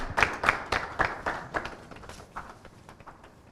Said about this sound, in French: Nous allons à présent recevoir sur OC Talk Show DSI et Anka que je vous demande d'applaudir très très fort